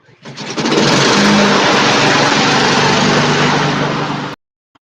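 Honda lawn mower engine catches and starts, then runs loud and steady at close range for about four seconds before cutting off abruptly.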